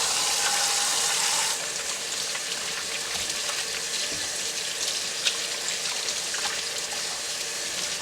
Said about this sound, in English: I'm just going to leave it right in here and wash my hands.